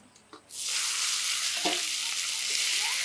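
Maya fish dropped into a hot pan of fried onion and chilli masala, bursting into loud, steady sizzling right after a couple of soft knocks, close up with no voice.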